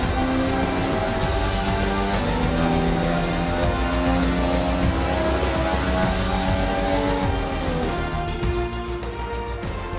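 An F1 race car from the video game F1 2020 drives back after the Monaco Grand Prix, a dense, continuous engine drone with shifting pitch throughout.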